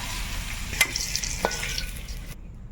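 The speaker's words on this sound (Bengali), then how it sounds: "আলু ভাজা হয়ে গেল" Potatoes frying in oil in a pan over a coal-fired clay stove in the Sundarbans, a steady close sizzle broken by a few sharp stirring scrapes, with no talk.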